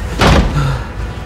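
A door slams shut with a loud, close thud, followed by a short rattle and a fading room echo.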